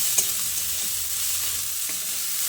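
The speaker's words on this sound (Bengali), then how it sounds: "খুব ভালো করে নেড়ে চেড়ে মিশিয়ে নিয়েছি" Radish greens stirred and fried in a pan: a close, continuous sizzle with a few soft scraping knocks from the spatula over a couple of seconds, without talk.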